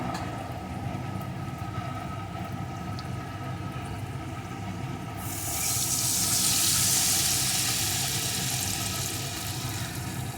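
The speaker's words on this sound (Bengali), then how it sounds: "এতে দিয়ে দেব পরিমাণ মতো জল" Water being poured into a pot of eggplant and potato curry, a broad steady rush that swells in over the second half, layered on a continuous sizzling, bubbling cooking bed.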